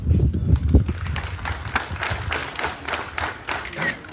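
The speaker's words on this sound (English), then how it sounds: "Let us clap for it, please." Dense, steady clapping from a crowd of students at a secondary school assembly fills the scene, with a few heavier thumps early on and a broad rustling texture throughout.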